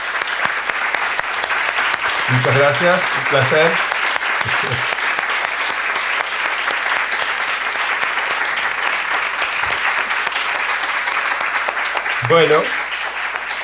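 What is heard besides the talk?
audience applause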